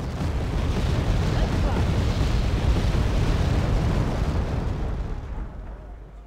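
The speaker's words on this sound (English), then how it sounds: "Oh, I love how fast mortars fire in this game." Rapid mortar fire in the war strategy video game Wargame: AirLand Battle, a dense continuous rumble of booming blasts that stays loud and heavy before slowly fading out near the end.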